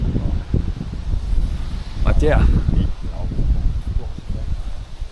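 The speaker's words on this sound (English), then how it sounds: "Yep, super windy." Strong outdoor wind buffets the microphone with a steady low roar that swells and gusts for several seconds, while a voice speaks briefly over it.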